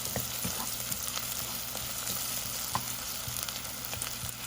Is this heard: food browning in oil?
yes